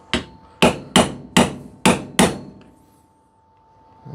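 Six sharp hammer taps on a seal driver, seating an oil seal into a brake part on a classic Corvette, evenly spaced over about two seconds, then quiet with a faint steady hum.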